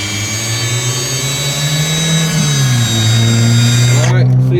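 A Milwaukee M18 FUEL cordless pipe threader spins as it threads black iron pipe for a gas line, holding a loud, steady motor whine with a shift in pitch midway and a change near the end.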